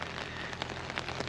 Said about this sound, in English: Absolutely chucking it down out there.